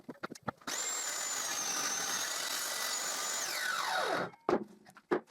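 A table saw fitted with a spline jig cuts a groove into a miter joint, a steady loud whine lasting a few seconds before spinning down, with faint knocks before and after.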